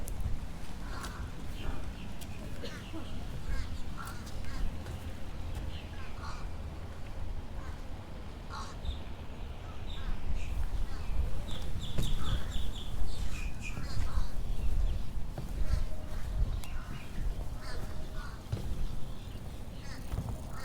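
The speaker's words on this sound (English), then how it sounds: "love the different sound that the American birds make." Several American birds call and chirp in short bursts over a steady outdoor background hum in Celebration, Florida, with occasional clatter and distant activity.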